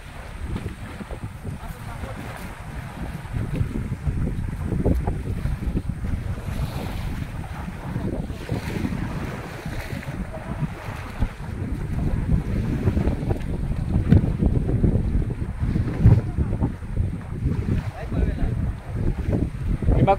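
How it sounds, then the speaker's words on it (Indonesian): A timber-carrying boat out on open water, with steady wind buffeting the microphone and waves washing against the hull in a continuous, fairly loud rumble throughout. "Ini kapal yang mengangkut kayu."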